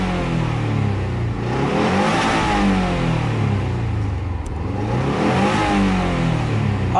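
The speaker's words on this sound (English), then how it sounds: "Honestly, thing runs, sounds great when you rev it up." A 2008 Subaru Legacy XT with a 2.5-liter turbo engine revs up and settles back repeatedly, loud and close, with steady throaty swells and no talking.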